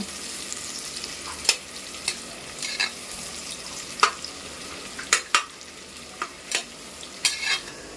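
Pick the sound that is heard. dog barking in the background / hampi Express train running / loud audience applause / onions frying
onions frying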